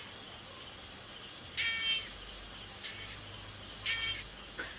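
A longhorn beetle in the Borneo forest gives three short, close buzzing rasps, each lasting about half a second, against a steady background hiss of insects.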